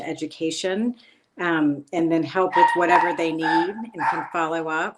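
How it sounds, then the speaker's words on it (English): A dog barks and yips in short bursts mixed in with a person talking continuously nearby, the barks loud and close. "Sorry, that's my dog."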